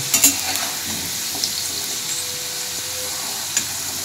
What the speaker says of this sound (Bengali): আলু লাল লাল করে ভাজা হয়ে গেছে